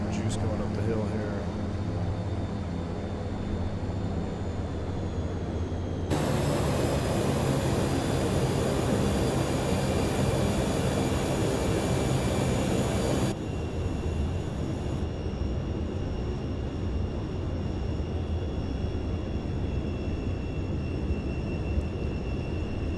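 Steady drone of a YS-11 turboprop airliner's engines in a flight simulator, a continuous broadband hum with tonal whine that swells louder for several seconds mid-stretch, then settles back, with no pauses.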